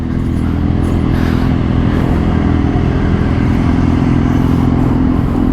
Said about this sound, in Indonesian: Suara knalpotnya padat banget guys